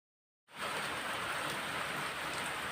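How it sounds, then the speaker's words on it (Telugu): Heavy, nonstop rain begins abruptly after a brief silence and then pours as a dense, loud, even hiss on surfaces, with no voices. "ఘోరంగా అంటే ఘోరంగా వర్షం పడుతుంది, ఆగకుండా పడేది పడుతుంది."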